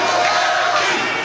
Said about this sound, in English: Crowd chanting for Spanky.